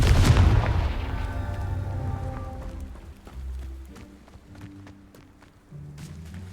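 A Confringo spell blasts in the Hogwarts Legacy video game, opening with a heavy boom that rumbles and decays over several seconds, followed by soft thuds and footstep-like taps.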